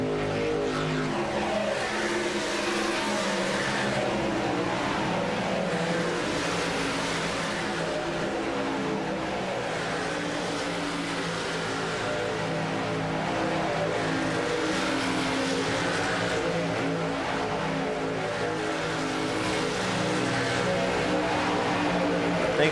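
Racing trucks run close together on a race track, their engines a loud continuous roar with surging, wavering revs as the pack passes and holds formation, steady throughout with no break.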